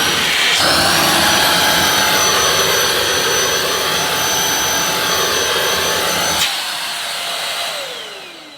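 A Goblin Essentials corded stick vacuum cleaner switches on and runs with a loud, steady whine and broad airflow roar for several seconds, then cuts off and winds down with a falling pitch.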